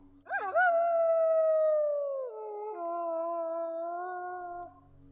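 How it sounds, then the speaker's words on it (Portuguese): A long, wavering wolf howl rises, holds steady, then dips and carries on in a lower tone before fading, loud and alone against near silence. "E outra vez, um outro uivo."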